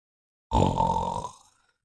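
A single drawn-out, rumbling vocal groan imitates a snore, lasting about a second before trailing off into silence.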